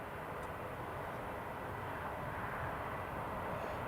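A Eurowings airliner taxis at Newcastle International Airport, its engines a faint, steady, distant whine and rumble with no other sounds standing out.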